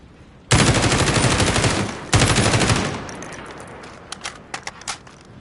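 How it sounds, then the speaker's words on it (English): Call of Duty hip-fire, one full magazine emptied at a target: loud, rapid automatic gunfire in two long bursts with a brief break between them, then a tail of scattered metallic clicks and clinks, no voices. "Here's hip fire at this range. Full magazine, center directly."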